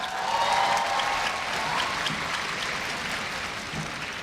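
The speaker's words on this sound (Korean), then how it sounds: "박수 많이 치시느라 힘드셨죠?" Audience clapping at a Korea University freshman entrance ceremony in a large hall, a broad, steady wash of applause that begins fuller and slowly thins, with a faint tonal voice or hum briefly underneath at the start.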